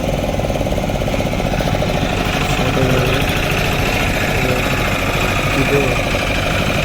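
A motorboat engine runs at a steady idle during flood relief work in Odisha, a continuous close rumble with voices faintly underneath.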